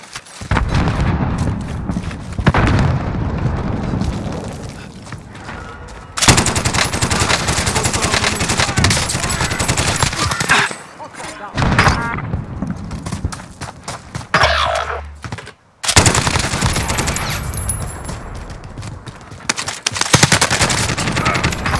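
A frag grenade blast and heavy automatic gunfire in Call of Duty Warzone, with loud sustained bursts of shots and booms filling the scene, broken by brief pauses.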